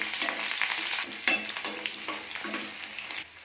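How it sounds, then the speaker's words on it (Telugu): Onions fry in hot oil with dried red chillies, making a lively close sizzle with bursts of stirring and clattering as the pan is worked. "ఆయిల్ వేడెక్కిన తర్వాత ఎండుమిర్చి ఫ్రై అయిన తర్వాత ఆనియన్స్ వేసుకోవాలి"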